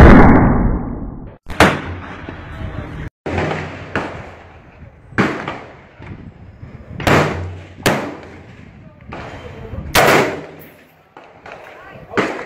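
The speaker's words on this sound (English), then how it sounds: "You want to record your shots." Gunshots at a gun range, about nine sharp, loud cracks at irregular intervals, each followed by a short echoing decay, with a deep rumble at the start and occasional talking in between.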